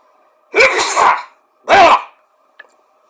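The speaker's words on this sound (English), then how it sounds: "Just 1 second. Gotta sneeze." Two sharp sneezes burst out close to the microphone, the first longer and more forceful, the second shorter, followed by a faint click, with steady quiet background between them.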